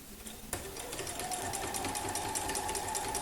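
A domestic sewing machine runs steadily while free-motion quilting stitches a curve, its fast rhythmic whirring starting abruptly and holding an even, close hum throughout.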